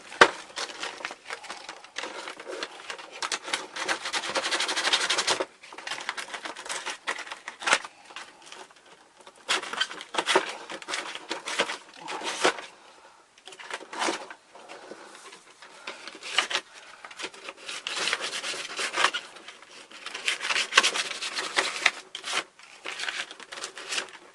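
Hand sanding of a wooden chainsaw arm prop for Halloween, heard as close, bright, scratchy rubbing strokes in uneven bursts separated by brief pauses.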